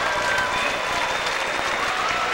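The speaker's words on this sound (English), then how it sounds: "Nice round of applause for Kenzie." Spectators at a 1991 girls high school swimming and diving state final applaud a diver's finishing pike dive, a loud, even wash of clapping and crowd noise echoing through the natatorium, with a faint whistle-like tone above.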